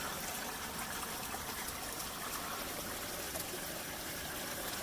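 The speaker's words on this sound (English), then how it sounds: "you got a waterfall in here that you can hear" A waterfall in a rock grotto along a solo hike through New Mexico gives a steady, faint, hissing rush of falling water that fills the space evenly, with no voices.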